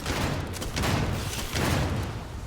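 Gunfire in the Starfield video game comes as a dense burst of several booming shots in quick succession, loud and continuous over a rumbling low-end backdrop.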